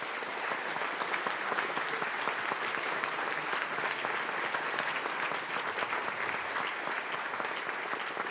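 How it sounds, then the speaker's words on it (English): A large audience claps for the team after final student game presentations at ETH Zurich's Gamelab, dense sustained applause that stays loud and even throughout without a break. "Round of applause for the team."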